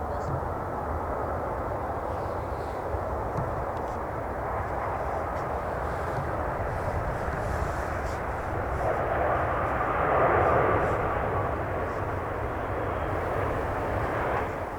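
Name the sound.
Saudi Boeing 787-9 Dreamliner aircraft at Manchester Airport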